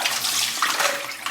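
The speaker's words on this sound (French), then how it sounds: "tout simplement rincer les morceaux" Tap water runs steadily over soaked coconut pieces being rinsed, a dense continuous splashing hiss with slight fluctuations, close and fairly loud throughout.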